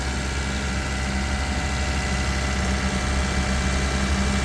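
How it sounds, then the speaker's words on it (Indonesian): A car engine runs steadily at raised revs to flush out carbon deposits, giving a continuous loud drone with a low rumble and no pauses. "dilakukan pengegasan untuk mengeluarkan kerak-kerak yang terproses"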